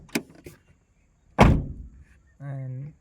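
A Maruti Suzuki Alto 800 car door shuts with one loud, close thunk after a quiet pause, preceded by faint clicks and followed by a short electronic tone.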